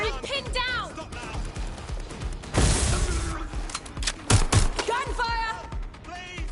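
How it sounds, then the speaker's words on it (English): Gunfire in Watch Dogs: Legion, with bursts of sharp mechanical cracks and clatter around the middle and again shortly after, mixed with game character voices and shouting throughout. "Gunfire!"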